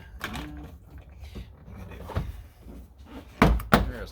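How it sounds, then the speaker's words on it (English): Door panel clips on a Lexus GX470 pop loose with a few sharp snaps, the loudest two near the end, amid low handling noise and faint creaks. "There's a lot of pop clips on this door."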